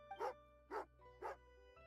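A dog in the game Genshin Impact gives three evenly spaced, fairly soft barks over a low background hum, close and alone, with no speech.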